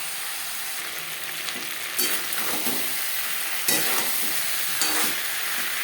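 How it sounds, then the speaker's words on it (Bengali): Pointed gourd pieces fry in hot oil with turmeric and salt, sizzling steadily and close, with several scraping stirs of a spatula against the pan. "হলুদের গুঁড়ো লবণ হলুদ দিয়ে পটল হালকা করে ভেজে নেব"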